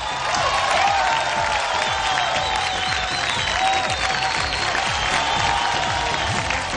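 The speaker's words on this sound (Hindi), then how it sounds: "जोरदार तालियां रेमो के लिए" A large crowd at a televised dance competition applauds steadily, dense clapping with some cheering mixed in, sustained and loud throughout.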